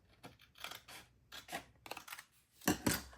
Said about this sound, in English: Just going to use my scissors.